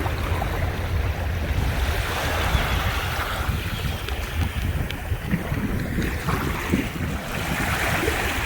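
Steady ocean surf washes along a Cancun beach in March, a continuous broadband roar of breaking waves mixed with wind buffeting the microphone, with no voices.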